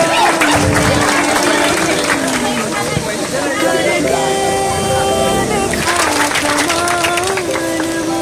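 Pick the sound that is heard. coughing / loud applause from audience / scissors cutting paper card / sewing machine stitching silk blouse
loud applause from audience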